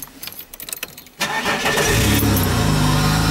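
A classic Mini engine with a welded retro exhaust starts after a few clatters and then settles into a loud, steady, close-up run.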